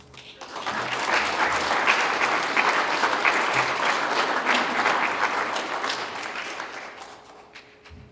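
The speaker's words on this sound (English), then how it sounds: "How about another round of applause for the amazing testimonies we've heard so far today?" A church congregation bursts into applause after a sermon, the clapping swelling quickly, holding full and dense for several seconds, then thinning out and fading near the end.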